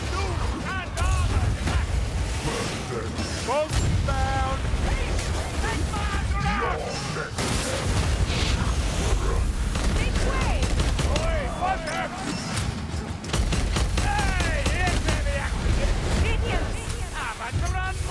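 Gunfire from Warhammer: Vermintide during a Festering Ground legend-difficulty mission, with dense, continuous combat noise of shots and crashes, loud throughout and mixed with voices.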